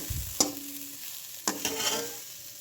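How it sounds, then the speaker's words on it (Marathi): Grated fresh coconut being stirred in ghee in a pan for coconut burfi, with a couple of sharp spoon scrapes over a soft, steady background sizzle. "आणि कंटिन्यू हलवत राहायचं, तर लाल पडतं."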